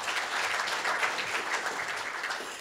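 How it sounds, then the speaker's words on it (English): An audience at a live-streamed event gives a steady round of applause, a dense wash of many hands clapping that holds at an even level, with no one speaking over it. "So give her a big round of applause"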